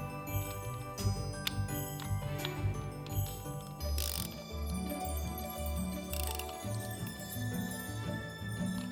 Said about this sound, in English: we're gonna go ahead and tighten everything down again